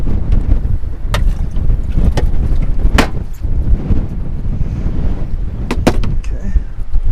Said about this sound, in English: Windy, windy day,